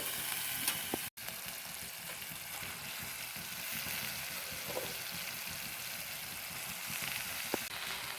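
Coriander leaves sautéing in a hot pan, a soft continuous sizzle and crackle, fairly quiet, with a brief dropout and a few faint clinks of stirring.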